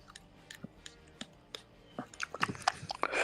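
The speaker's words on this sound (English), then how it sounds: "I hear somebody doing like chewing weirdly in the background." Wet, irregular chewing and biting sounds in the background of a live NFL Monday Night broadcast between the Ravens and the Buccaneers, quiet at first and then becoming louder and more frequent toward the end, with no talk.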